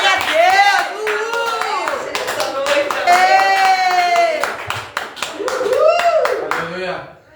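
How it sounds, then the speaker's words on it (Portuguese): Loud rhythmic clapping from a church congregation at a worship service runs steadily throughout, under a raised voice speaking and calling out over it. "Você pode aplaudir o Senhor, mas você pode aplaudir mais forte"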